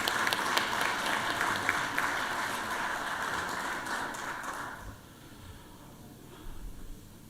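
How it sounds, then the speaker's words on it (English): Applause in a state Senate legislative session, a crowd clapping steadily and fairly loudly before thinning and fading out partway through, leaving quiet room noise and a few scattered thumps. "Let's give Mr. Robert Brown a round of applause again,"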